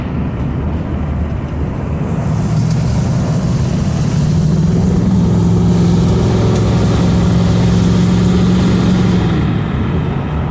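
A truck engine runs steadily at a low idle, a loud, close, continuous rumble with a deep droning hum that holds through the whole stretch without talk.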